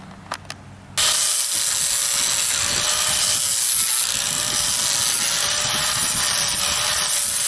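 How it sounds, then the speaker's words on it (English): An angle grinder with a flap disc smooths the edge of new pool decking, starting abruptly after a few light taps and then running as a loud, steady whine with grinding rasp that holds throughout. "I just like to run the angle grinder with a flappy disc and clean that up."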